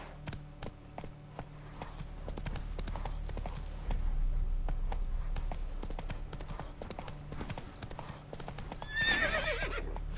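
Hooves clip-clop in a fast steady rhythm as a horse gallops in The Witcher 3: Wild Hunt, over a low rumbling game soundscape, ending with a brief whinny near the close.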